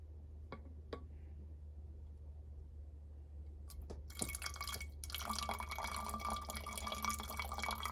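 Water from a bottle poured into a homemade Heron's fountain: a few isolated drips first, then a steady close splashing trickle that fills the second half.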